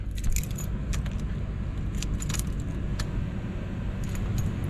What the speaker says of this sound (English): Let's put the key in.